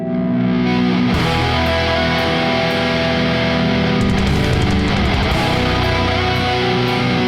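A dense rock mix driven by heavily distorted, harsh, overcompressed electric guitar, loud and constant, with drums crashing in partway through.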